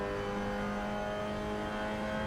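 A race car engine held in fourth gear on a lap, a steady loud drone with a high sustained whine, heard close without any talk.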